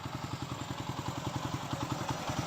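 A motorcycle engine idles steadily nearby, with a rapid, even chugging pulse and a faint rattle throughout.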